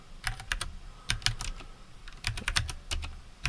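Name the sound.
typing on a split mechanical keyboard with brown switches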